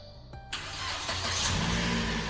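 A car engine cranks briefly and then catches at about half a second, settling into a steady running idle close by with a broadband rumble, after earlier failed attempts to start.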